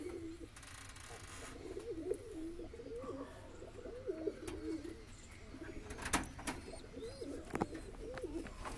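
Lakka fantail pigeons, a breeding pair, coo in a breeding cage, with soft repeated rolling coos in steady phrases, close by over a low background hum and a few faint clicks.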